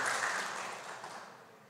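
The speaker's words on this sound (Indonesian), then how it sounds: "Tepuk tangan untuk beliau-beliau." Audience applause fills a room at a talk show event, loud at first and then slowly fading over a couple of seconds, with no speech over it.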